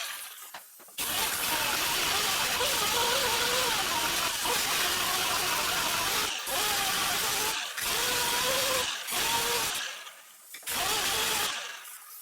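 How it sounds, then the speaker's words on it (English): A die grinder runs in bursts against a Chevrolet straight-six distributor during restoration, a loud, steady high-pitched whir cut by several brief pauses, with a voice heard in between. "let me go get the die grinder and we'll keep going"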